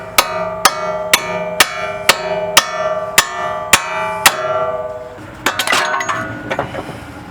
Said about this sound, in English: once you got those off, you can just tap them out with a hammer